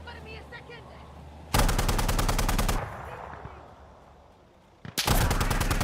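Automatic weapons fire in an Insurgency Sandstorm match, with two loud, rapid bursts of close gunfire separated by a quieter stretch and a few single shots.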